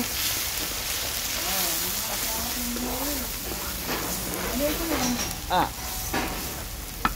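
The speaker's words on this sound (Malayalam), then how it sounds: "ഇനി അപ്പോൾ അതിലേക്ക് അരപ്പിടുകയാണ്" Roasted coconut masala paste sizzles loudly in a pan for a fish head curry, with stirring scrapes over a continuous frying hiss, close up, and a voice faintly audible in the background.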